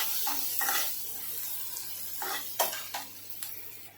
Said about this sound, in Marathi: आता आपण यांना कांदा टाकून घेऊया कांदा चांगला लाल होईपर्यंत परतून घ्यायचा आहे